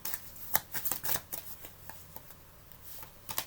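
Oracle cards shuffled by hand in a series of quick, crisp riffling bursts and soft slaps, fairly close and quiet, with no talking.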